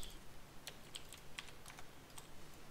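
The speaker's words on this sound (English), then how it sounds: "I have a Razor Black Widow Ultimate Axe." Fingers type on a loud Razer BlackWidow Ultimate mechanical keyboard, giving a few quick, sparse key clicks at low volume with no talking.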